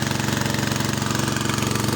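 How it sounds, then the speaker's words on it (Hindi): A Peter engine water pump runs at a steady idle outdoors at a plant nursery, giving a loud, continuous, rapid thumping chug with an even mechanical rhythm and no pauses. "तो ये पीटर चला दिया है मैंने,"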